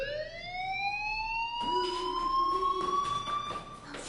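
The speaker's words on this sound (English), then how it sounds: "Hey, do you hear that fire alarm?" A fire alarm rings inside the video game Life is Strange, a loud sustained electronic tone that rises steadily, then gains a lower second tone partway through, continuing without pause.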